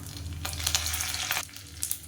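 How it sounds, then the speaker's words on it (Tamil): Mustard seeds crackle and sizzle in hot oil, steady frying with a few sharper spattering bursts close by. "இப்போ எண்ணெய் நல்லா சூடானதும் 1 டீஸ்பூன் கடுகு சேர்த்துக்கலாம்."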